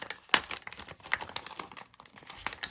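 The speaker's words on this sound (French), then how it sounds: "Attendez, je vais vous le déballer aussi." Plastic packaging of AliExpress fishing lures crinkling and tearing as it is unwrapped close up, a few quiet irregular rustles and crackles with one sharper rip near the start.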